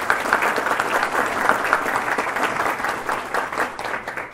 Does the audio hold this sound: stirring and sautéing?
no